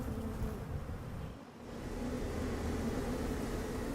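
Honeybees buzz steadily while gathering pollen among fruit crops, a dense continuous drone that dips briefly near the middle and then returns at an even level.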